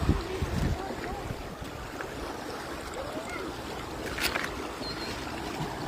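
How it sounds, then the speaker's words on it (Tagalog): Fast-flowing stream water rushes steadily nearby, a broad continuous wash with small splashes, outdoors while catching crayfish with kids. "The water is flowing really fast"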